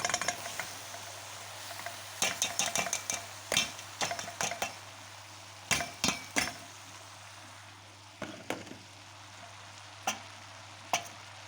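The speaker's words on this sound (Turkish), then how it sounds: "şimdi soğanlarını ilave edeceğim" Onions going into a Turkish içli köfte filling of mince and potato, with a steady low frying sizzle broken by scattered clinks and scrapes of a spoon stirring against the pan, close and fairly quiet.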